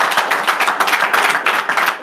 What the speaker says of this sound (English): round of applause for Chris Kringle.